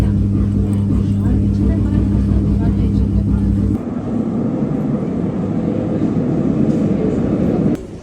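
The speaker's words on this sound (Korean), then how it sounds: "열차 타고 한번 가보도록 하겠습니다" Steady rumble of a Paris metro train in motion, a deep hum giving way to rattling roll as the carriage runs on, with voices murmuring inside.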